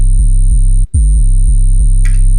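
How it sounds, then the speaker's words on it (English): A distorted sub bass layer in an electronic music production, a loud, deep pulsing bass tone repeating in short rhythmic hits, with a brief dropout midway and a short high burst near the end. "here you can find a sub bass layer which is used to distort everything"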